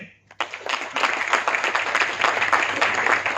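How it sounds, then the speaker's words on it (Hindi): A crowd at a leadership training session breaks into sustained applause after a brief quiet start. Dense clapping from many hands carries steadily to the end, with a faint background hum. "एक बार तालियां हो दें।"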